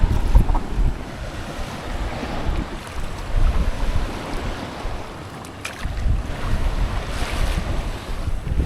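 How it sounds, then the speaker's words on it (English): A boat surfs ocean waves in toward Peel Island, with steady wave wash and hull slapping mixed with heavy wind buffeting on the microphone, rising and falling in surges. "We're literally surfing the waves in."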